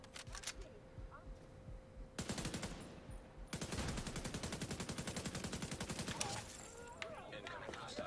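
Rapid automatic gunfire from a video game shooter plays in steady, closely spaced bursts. There is a short volley first, then a long sustained stream of shots, with faint talking around it.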